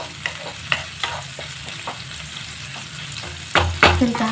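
Chopped onions lightly frying in a pan for a mixed vegetable curry, a continuous crackling sizzle broken by periodic scrapes of a stirring spoon, louder stirring bursts near the end.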